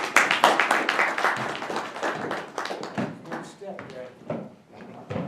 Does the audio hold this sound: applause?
yes